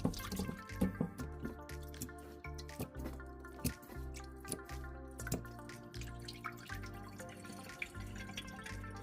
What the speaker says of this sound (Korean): 먼저 찬물에 굵은 소금 1큰술을 넣고 풀어주고 생굴 400g을 넣고 살랑살랑 씻어줍니다.